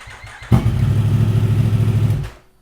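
A Yamaha R1 motorcycle engine cranks and fires, then settles into a loud, steady, throbbing idle close by before cutting off abruptly near the end.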